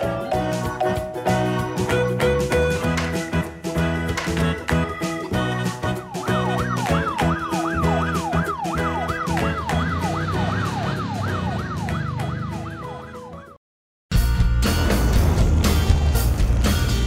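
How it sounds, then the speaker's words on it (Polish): A toy police car wails its siren in rapid up-and-down sweeps over backing music, loud and close, running continuously until a sudden cut, then a burst of fuller sound resumes. "Włączmy światła i syreny."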